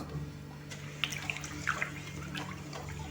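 Vinegar, 300 ml of 9% strength, poured into a pickling marinade for tomatoes and cabbage, a brief close liquid stream with a few splashes and trickles over a low background hum, no voices.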